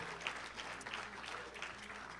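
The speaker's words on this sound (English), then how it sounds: "So now let's all give a big round of applause" An audience at a university Chabad celebration gives a soft, distant round of applause, a sustained patter of clapping without voices on top.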